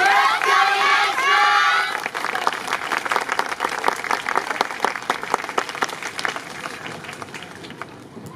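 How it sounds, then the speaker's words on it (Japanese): Crowd at the Oedo Soran yosakoi dance festival in 2018 claps along in time with a university team's performance, with loud shouts and chanting over the first two seconds, then steady rhythmic clapping that fades toward the end. "手拍子よろしくお願いします"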